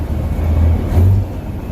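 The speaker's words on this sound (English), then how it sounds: "Jake brake." A big truck's Jake brake engaging while downshifting at around 1800 RPM, heard from inside the cab as a loud, deep rumbling engine roar with throbbing low-pitched pulses over the brief stretch.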